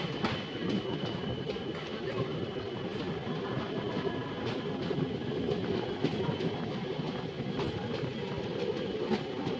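A diesel-engine train runs past on the line near Londa in Karnataka, its wheels clacking in a rhythmic stream of sharp clicks over a constant rumbling roar, moderately close.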